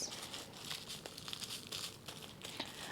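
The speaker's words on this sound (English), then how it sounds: "Saran wrap doesn't really fit onto these Starbucks cups very well." Saran wrap plastic film being pressed around a Starbucks cup holding a plant, a soft, faint, continuous crinkling with small irregular crackles, close by.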